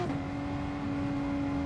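Ferrari 458 race car in Gran Turismo Sport, a steady engine drone holding a fairly constant pitch for a short stretch, close and continuous with no voices.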